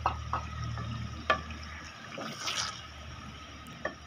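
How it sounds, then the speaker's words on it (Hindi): Water poured into a pan of cooking liver and lung masala, a brief splashing fill with a few clinks and sizzling bursts, fairly quiet and close, no voices. "अब इसमें पानी डाल देंगे"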